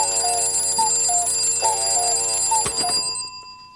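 An alarm clock rings with a steady, shrill metallic tone and a repeating beeping pattern, loud and close, then cuts off abruptly near the end.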